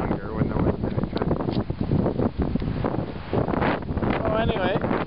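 Strong gusty wind buffets the microphone during a mountain bike ride on a sunny day near Braulio Carrillo Park in Heredia, Costa Rica, a continuous roaring rumble with no clear voices.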